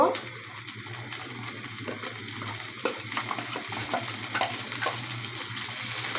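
Mango pieces sizzle and crackle in hot oil while being stirred for a sweet, sour and spicy mango pickle, a steady frying hiss with scattered scraping stirs and no talk.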